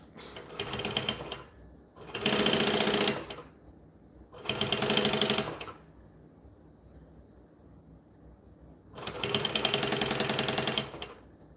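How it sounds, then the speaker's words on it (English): Sewing machine stitching bonded nylon fabric in three loud, close bursts of rapid mechanical whirring, each a second or two long, with quiet pauses between them and no talking. "Line it up, stitch it down."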